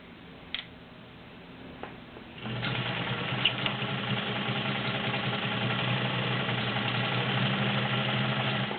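A vintage White model 530 sewing machine starts after a few soft clicks and runs with a steady, smooth, moderately quiet mechanical hum and fast needle ticking.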